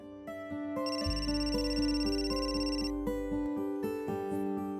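A phone's electronic ringtone plays a bright repeating melody, loud and close, over a steady low hum.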